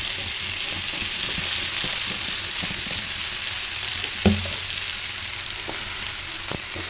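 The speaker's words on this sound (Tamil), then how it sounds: "நல்லா இதை கொஞ்சம் பச்சை வாசனை போகிற அளவுக்கு வதக்கிக்கலாம்." Onion and tomato sautéing in a pan for a hotel-style paneer butter masala, a steady close sizzle with occasional spoon taps and stirring scrapes, no talking.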